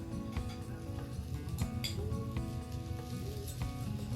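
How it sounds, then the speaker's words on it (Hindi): Grated potato sizzles in a hot pan of roasting spices, a steady close frying hiss with a few scraping clinks of a utensil, no voices. "अब इसमें डालेंगे हम आलू जो हमने ग्रेट कर रखे थे"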